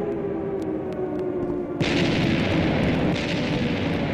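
A deep, rumbling explosion in a video game bursts in suddenly and lingers as a dense, roaring wash of noise after a low, steady hum.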